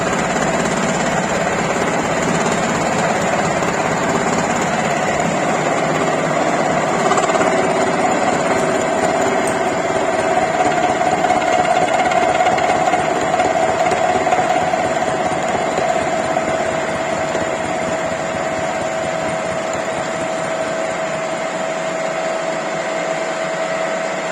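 A milling machine cutter on power feed machines the next face of a non-standard bolt, producing a loud, steady whirring drone that runs unbroken throughout with no talking.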